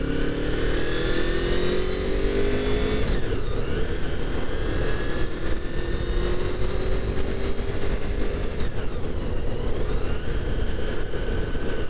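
A Honda VFR800Fi motorcycle being ridden in fifth gear, its engine giving a steady, loud, continuous drone with a slowly rising pitch and brief dips, close to the microphone with constant wind noise and no talking.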